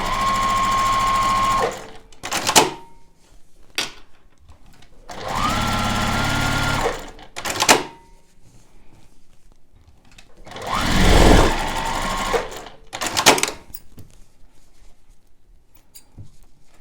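A home sewing machine stitches quilt-as-you-go fabric panels in several separate bursts, each a loud close whir lasting one to two seconds, with quiet gaps and light handling noises between runs.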